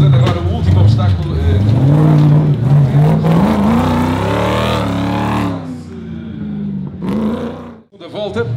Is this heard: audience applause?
no